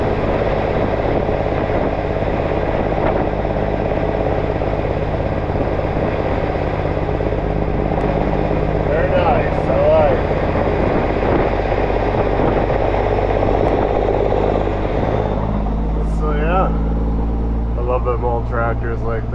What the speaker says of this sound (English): It's a tractor over here at old John Deere.